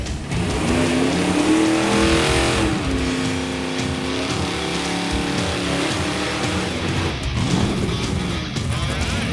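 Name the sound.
1969 Buick Skylark doing a burnout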